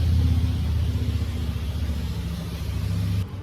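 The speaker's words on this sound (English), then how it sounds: "There's a car passing by." A car passes by outside with a loud, low engine rumble that swells and then fades away.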